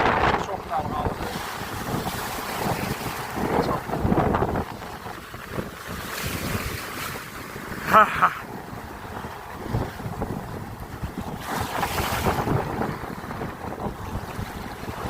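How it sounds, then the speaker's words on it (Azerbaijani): Rough, wavy sea water sloshing and breaking close by under strong wind buffeting the microphone, with occasional short spoken words over the churning noise. "Soyuqdur və dalğalıdır."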